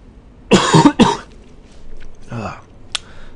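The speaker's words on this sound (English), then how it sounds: "Tried to sneeze, but I coughed instead." A person coughs twice in quick succession up close instead of sneezing, followed by a quieter throat noise and a short click, with near-silence in between.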